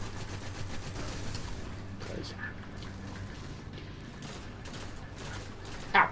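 Video game gunfire crackles in rapid, fairly quiet bursts behind the game's other sounds, with a sharper pop near the end.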